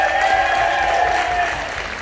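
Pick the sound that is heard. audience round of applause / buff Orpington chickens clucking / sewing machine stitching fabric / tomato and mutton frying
audience round of applause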